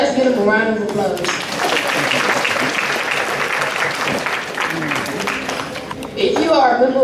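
Audience applause at a middle school honors night banquet, sustained clapping from a crowd lasting several seconds, fairly loud and close, with a voice speaking briefly at the start and end.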